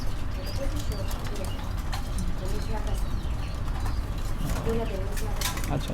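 White-faced fancy pigeons coo softly in a cage on a farm, low murmuring calls scattered beneath someone talking nearby amid steady background noise.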